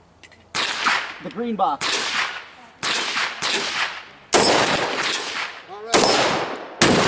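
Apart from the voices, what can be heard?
FN SCAR rifle gunshots hitting steel plates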